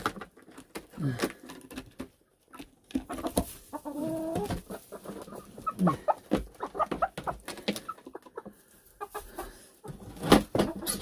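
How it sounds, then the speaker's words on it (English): Bantam chickens cluck softly and intermittently close by, with scattered scratching and rustling in old hay in the fading evening light. "Little bantams."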